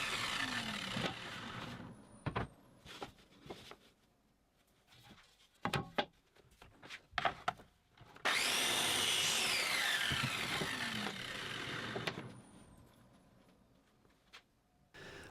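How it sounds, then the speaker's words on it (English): Scrap 18mm MDF strip being cut on a crosscut sled, a loud sustained saw run of several seconds with a falling whine, preceded by scattered knocks and handling clatter of the workpiece. "Still at the crosscut jig, I'm cutting a strip of scrap 18mm MDF"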